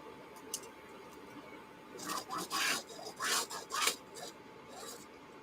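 A marker or pencil dragged along a ruler to draw lines on fabric for a zippered carry-all bag, giving several short close rasping strokes in quick succession.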